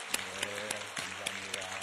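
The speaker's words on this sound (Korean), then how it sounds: "우리 찬양대 다시 한번 격려 박수하겠습니다" A church congregation claps in encouragement for the choir after its hymn, a fairly faint, rhythmic unison clapping with regular beats.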